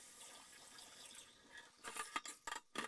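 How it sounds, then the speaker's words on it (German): Soaking water is poured off lentils. After a quiet stretch there are several short splashing, gurgling bursts close by, with no talking. "Das Einweichwasser wird abgeschüttet und die Linsen abgespült."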